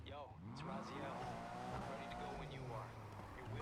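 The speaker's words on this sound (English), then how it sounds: "this car is pretty loud" A race car engine in a PC video game, run with a downclocked GPU on a Pentium system, sweeps up and down through gear changes with tire squeal, playing at low level under a voice.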